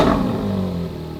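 Close up, a Ferrari 458 with a Capristo exhaust gives a brief loud rev that tails off into a lower, rumbling idle with a light clattering edge.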